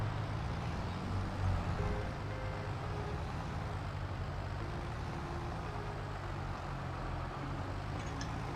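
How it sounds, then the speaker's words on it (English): A D19 tractor engine labors uphill in Farming Simulator 25, giving a steady, heavy low drone that holds evenly throughout with no break. "The old D19 seems to be struggling a little bit."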